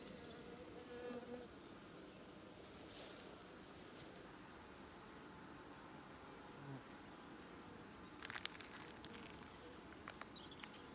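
Bees and a wasp buzz around a hive outdoors, a faint continuous droning hum with occasional closer flybys and small rustling clicks.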